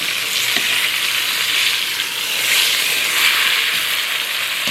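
Beef pot roast browns in hot oil, giving a steady close sizzle and frying hiss that runs unbroken for a few seconds with no talk.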